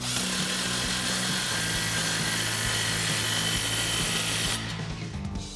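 A 16 mm socket tightens the exhaust tip clamp on a Tundra dual exhaust system, making a steady close mechanical whirring that runs for about four and a half seconds, then cuts off.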